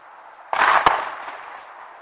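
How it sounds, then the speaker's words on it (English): A recorded gunshot or firework: a sudden sharp crack followed by a second loud bang, then a short fading rumble of echo with no talking. "which one of those did you think was a gunshot and which one did you think was a firework?"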